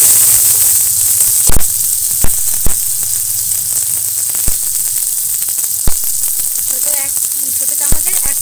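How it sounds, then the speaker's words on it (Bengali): Tomatoes fry with salt in a pan, making a loud continuous sizzle and crackle, with sharp clicks from stirring scattered through it. "টমেটোগুলো ভালো করে কষে নেব"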